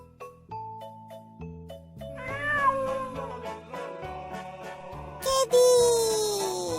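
A domestic cat meows twice over steady background music, with a drawn-out, wavering mew midway and a louder, sharper one near the end.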